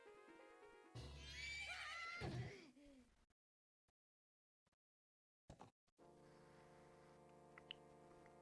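Horse whinny from the video game The Legend of Zelda: Majora's Mask, a loud, sweeping neigh with a harsh snort lasting about two seconds, then silence with a brief clatter and steady game ambience.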